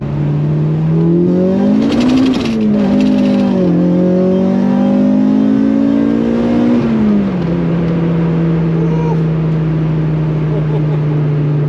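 A loud, race-prepared Honda Civic EG5 with a swapped Integra Type R engine revs up and down in sharp bursts, then settles into a steady, droning tone, close by and continuous.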